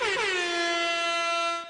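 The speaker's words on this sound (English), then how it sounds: "And I'm going to ask them to put some like air horn sounds." A single loud air horn sound effect, one sustained blaring tone that bends briefly at the start, holds steady, then cuts off cleanly with no voices.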